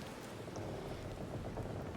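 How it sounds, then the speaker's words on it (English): Steady rain drumming on a ship's deck in the video game Pillars of Eternity II, a faint continuous hiss of dense drops with a low rumbling wash and no voices. "The rain drums against the deck."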